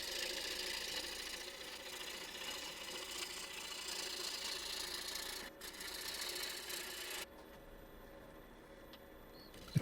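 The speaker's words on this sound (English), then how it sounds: "The gouge I'm using right now is called a spindle gouge. And it's really good for spindles like this. And you can see it makes a nice clean cut here." Spindle gouge cutting a scrap-wood spindle on a wood lathe, a steady broadband rasping hiss over the motor hum that drops briefly near the end, then continues more quietly.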